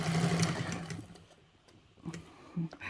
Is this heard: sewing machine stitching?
yes